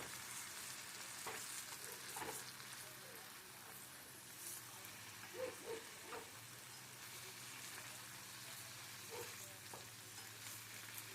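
Dryad's saddle mushrooms stirred in a pan of oil and water give a quiet, steady sizzle with occasional soft scraping stirs and a few light clicks, heard from a moderate distance.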